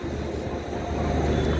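A train passing on rails in rainy weather, a steady loud rumbling roll with rising intensity, close by and without speech.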